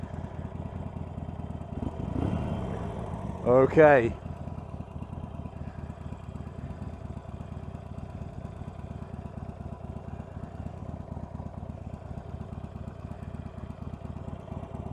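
A Harley-Davidson Iron 883 motorcycle sits idling in neutral with a steady, rattly mechanical chug throughout, close and even, broken early by a brief louder burst and a short spoken word.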